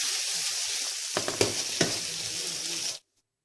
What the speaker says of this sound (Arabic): حطيت عليهم شوية زيت وراح احمسهم تحميص بس اقلبهم